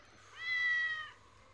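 A single drawn-out cat meow from the video game Postal 2 rises and fades cleanly over a quiet background.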